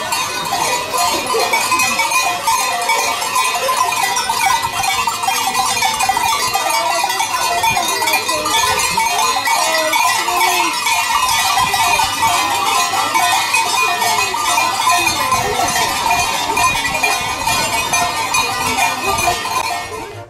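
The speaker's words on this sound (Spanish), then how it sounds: "sentimos el ruido de las campanas del rebaño de cabras" Goat bells clank and jingle continuously from a herd near Zermatt, Switzerland, with occasional bleats mixed into a steady, busy outdoor wash of sound.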